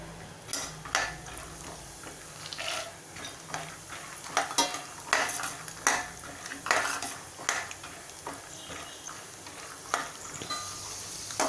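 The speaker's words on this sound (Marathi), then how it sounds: "आपलं इथे तेल छान तापलं आहे। शेंगदाणे आपल्याला आधी तळून घ्यायचे।" Peanuts fry in hot oil in a pan for kanda batata poha while a spoon stirs and scrapes against the metal, making irregular clinks and scrapes over a soft, steady sizzle.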